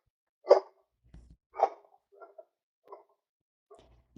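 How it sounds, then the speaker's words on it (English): A dog barks several times at moderate distance, a few sharp yaps followed by softer, scattered barks in a quiet room. "hear the barking?"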